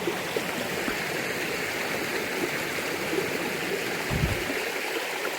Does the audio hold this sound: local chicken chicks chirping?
no